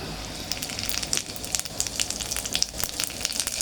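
Cumin seeds frying in a hot pan as the base for cooking with garlic, asafoetida and onion, giving a steady, close, bright sizzle with crackling pops throughout, with no talk over it.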